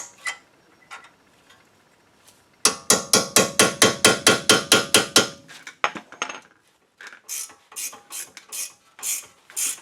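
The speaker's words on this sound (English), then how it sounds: "I'll put an Allen wrench in the top and then tighten it the rest of the way" Rapid, evenly spaced ratchet clicks as an Allen wrench tightens an Audi Q5 ball joint, loud and close, then slower scattered bursts of clicking after a pause.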